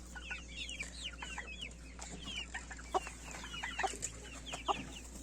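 Chicks peeping in high, rapid chirps mixed with a few soft hen clucks, close and steady throughout.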